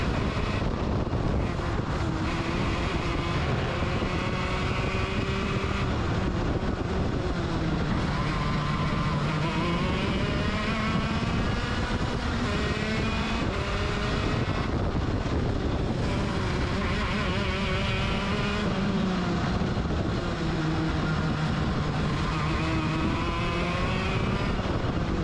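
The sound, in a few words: racing kart engine driving a lap on track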